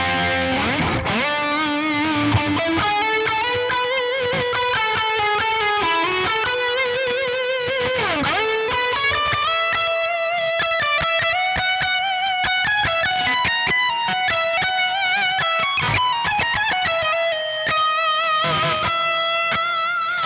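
Distorted electric guitar lead lines played through a Nolly X amp-sim tone, with sustained bends and melodic runs over a dense, compressed rhythm bed, loud and continuous throughout.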